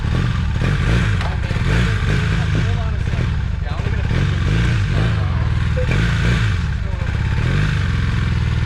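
A 1982 Honda CM450 café racer project bike idling on its first start in seven years, a loud, close, steady engine rumble with a rhythmic low pulsing throb and mechanical clatter, voices talking over it.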